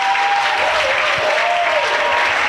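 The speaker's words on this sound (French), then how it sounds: "Acclamez pour le prophète" A church congregation applauds for the prophet at a prayer service, steady, dense clapping that fills the room for the whole stretch, with a faint sustained tone underneath.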